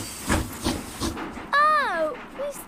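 Cartoon steam train halted at a signal, breathy bursts of steam hiss followed by a rising and falling whistle-like tone, fairly loud with a voice speaking partly over it.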